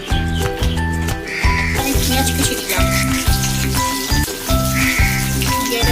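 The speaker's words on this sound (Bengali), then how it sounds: "আমি পেঁয়াজ দিলাম" Onions fry in oil, giving a steady, close sizzle with light crackle. A regular knocking pulse runs under it.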